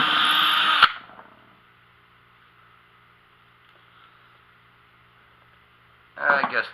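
A power drill whirs steadily for about five seconds while boring into the edge of a gold-mining drywasher box, with a short burst of louder noise at the start and end.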